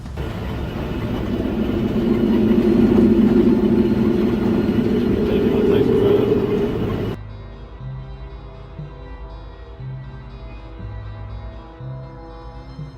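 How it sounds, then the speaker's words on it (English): Train running through peaceful Australian countryside: a loud, steady rumble of wheels and carriages swells over the first seven seconds, then cuts off abruptly into quieter tonal background sound. "A train was gliding through the peaceful Australian countryside."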